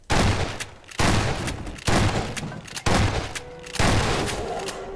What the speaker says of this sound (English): Use your shotgun.